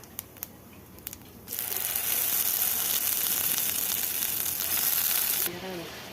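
Ground spice paste tipped into hot oil with fried nigella seeds erupts into a loud, steady sizzle lasting several seconds, then drops back to quiet, with a voice heard briefly near the end.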